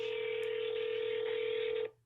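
A telephone line tone plays while a call is placed to the SEC, a steady continuous tone heard quietly for about two seconds before it cuts off abruptly.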